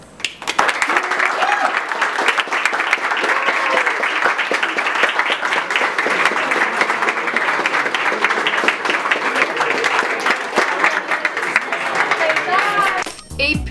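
A school audience breaks into sustained, loud applause for a student, steady dense clapping with crowd noise and some cheering throughout, ending just as a voice starts to speak.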